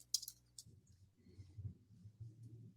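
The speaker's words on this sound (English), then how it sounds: "I'm typing." Keyboard keys click faintly in a quick short burst at the start, followed by a quiet low background rumble with scattered soft taps.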